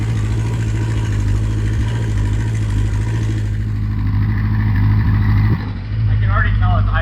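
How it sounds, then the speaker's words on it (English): A Kawasaki Concours motorcycle engine idles steadily with the choke partly on, a close, continuous low rumble that dips briefly before settling back, with a voice talking over it. "I can already tell it's idling better"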